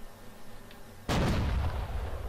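A single heavy 88 mm gun blast from a JagdPanzer tank destroyer in the game Ground War Tanks, a sudden loud close report followed by a long rumbling decay.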